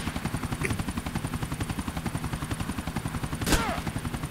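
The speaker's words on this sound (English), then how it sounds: "I am being shot." Rapid automatic gunfire in the video game GTA IV, a fast continuous rattle of shots with a helicopter-like thrum underneath, loud and close, with a brief sharp burst near the end.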